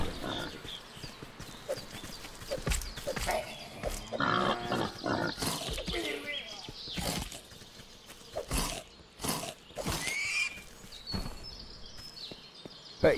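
A pig in the video game Force of Nature makes a run of short snorting and grunting calls mixed with clattering, hoof-like game sound effects, all irregular and fairly close, with no voice over them.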